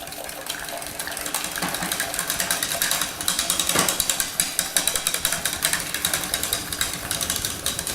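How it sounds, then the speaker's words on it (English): Whisk scraping rapidly and steadily through a cornstarch-thickened whiskey cola sauce in a pan, a dense run of metallic clicks and wet swishes, close and continuous with no talking. "I'm going to switch over to a whisk because what's happening is the cornstarch is thickening up"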